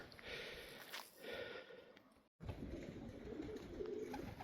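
Soft low cooing of pigeons in a loft amid rustling background noise, with a brief dropout midway before the cooing resumes.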